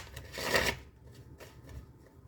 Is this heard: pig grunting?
no